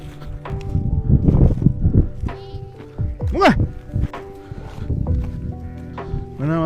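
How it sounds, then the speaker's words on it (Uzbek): Sheep bleat on a rural farm, with a few wavering, quavering cries, one loud and close, mixed in among people talking and some shuffling movement. "Mana qo'ylarni ko'rdinglarmi?"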